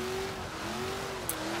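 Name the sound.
Ford Foxbody Mustang drifting, tires squealing, Forza Horizon 3 video game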